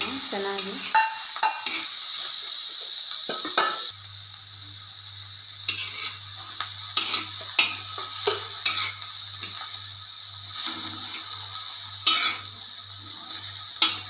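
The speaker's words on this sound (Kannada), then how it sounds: "ಈ ಥರ ಚೆನ್ನಾಗಿ ಹುರ್ಕೋಬೇಕು ನೋಡಿ ಫ್ರೆಂಡ್ಸ್ ಇದನ್ನು" Bitter gourd frying in oil, first a bright loud sizzle, then quieter crackling with repeated scraping and clinks of a spatula stirring the pan, plus a low steady hum, no talking.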